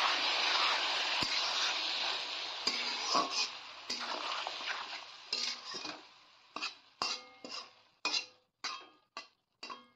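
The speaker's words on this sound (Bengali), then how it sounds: "জল দিয়ে নেড়ে চেড়ে দিলাম।" Kochur loti (taro stolons) being stirred with a little water in a pot: a soft hiss fades away while a spoon scrapes and taps against the pot in a run of distinct, increasingly spaced clinks.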